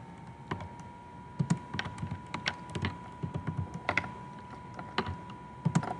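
Close, soft computer keyboard keystrokes as a page name is typed, irregular clusters of light taps with short pauses over a faint steady hum, no speech.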